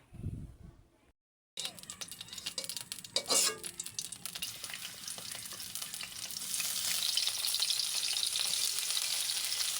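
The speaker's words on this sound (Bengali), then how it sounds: "পেঁয়াজ কুচি, রসুন কুচি সব দিয়ে দিয়েছি। এবার এটা হালকা করে ভেজে নেব।" Chopped onion and garlic fry lightly in a pan for chicken momo filling, a steady close sizzle with a spoon stirring and scraping, the hiss swelling louder toward the end.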